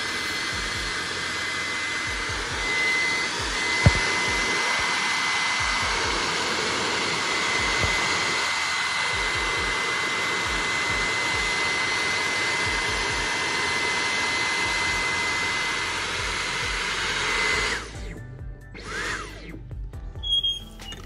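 A Dyson air purifier running on boost mode gives a loud, steady whooshing fan roar that holds constant for most of the stretch before cutting off near the end, followed by a few soft knocks.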